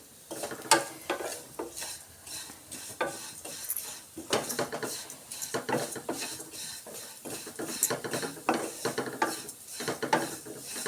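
Vermicelli roasts slowly over a low flame while a spoon stirs it around a pan, giving repeated scraping and clinking strokes in an uneven rhythm, close and clear with no talking.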